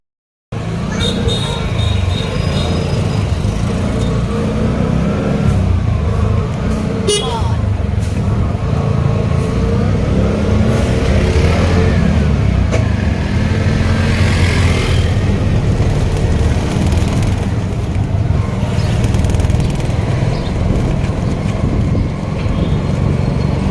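An auto rickshaw engine runs steadily while being driven through town on a first-time drive, a continuous low rumble with road and traffic noise mixed in, under intermittent talk from passengers.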